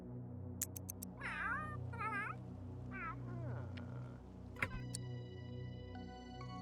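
Snowy the cat from The Sims 3 gives several short, wavering meows in a row, moderately close over a steady low game hum, with a few sharp ticks and clicks scattered between the calls.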